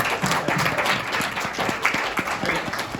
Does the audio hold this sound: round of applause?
yes